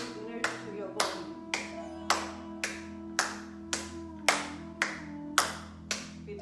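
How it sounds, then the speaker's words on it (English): A group clapping hands hard during a yoga session for women, about a dozen sharp, evenly spaced claps in a steady rhythm, fairly close with a faint hum beneath. "Clap hard as much as you can."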